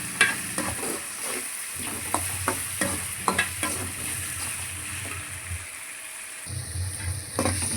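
Vegetables and potato with chilli powder sautéed in oil in a pan give a steady sizzle, with repeated scraping, stirring knocks of a spoon throughout.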